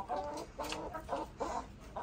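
Chickens cluck in a steady run of short bursts, about four or five close-together clucking phrases, with no talking.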